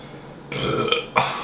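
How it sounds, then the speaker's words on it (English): A man burps after eating chocolate scorpion peppers, two close, loud guttural belches, one long and rumbling, then a shorter second burst. "There's burp number 2."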